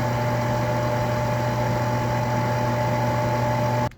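A steady mechanical whir with a constant low hum runs evenly and loudly from the rotating brushes of a Prolux wide area floor vacuum, then cuts off abruptly at the end.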